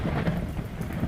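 A rain and thunder sound effect: a dense, steady hiss of heavy rainfall with low rumbling thunder rolling underneath, loud and continuous with no voices.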